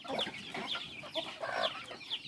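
Chickens cluck and chatter in a busy flock at a mountain spot in Bataan, overlapping calls coming in quick irregular bursts at close range with no talking.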